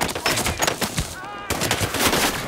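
Gunfire from the video game Sniper Ghost Warrior 3, a loud burst of sharp reports packed close together over a couple of seconds, with no speech over it.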